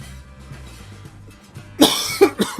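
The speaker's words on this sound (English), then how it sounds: "Anytime you see me pause, I need to cough." A man coughs several times in quick, harsh bursts and clears his throat, loud and close, over quiet railroad video-game background sounds.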